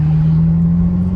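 A Ferrari F12's engine holds a loud, steady idle-like rumble, with a strong constant low tone and no clear rise in revs across the short moment.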